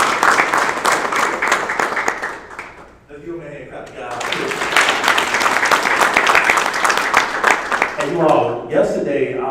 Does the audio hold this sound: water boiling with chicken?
no